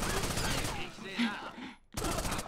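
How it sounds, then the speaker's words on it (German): Dense, rapid gunfire in Rainbow Six Vegas 2, a loud sustained burst that cuts out briefly near the end and then resumes at full intensity. "Bin unter Beschuss!"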